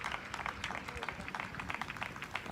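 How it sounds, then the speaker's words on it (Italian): Applause at an under-15 youth football match in Palermo as a substituted player leaves the pitch, steady scattered clapping from a small crowd over outdoor noise. "accolto fuori dagli applausi"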